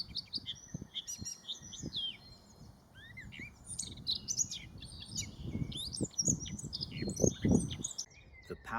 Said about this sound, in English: The ebullience of the blackcap.